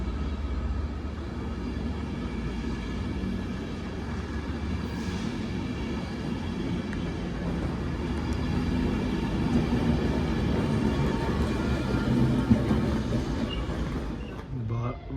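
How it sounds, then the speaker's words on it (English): Class 197 two-car diesel train arriving at Chester station, a low rumbling engine and wheel noise building gradually and growing louder as it draws nearer, with a person speaking over it. "Right, here's the train then."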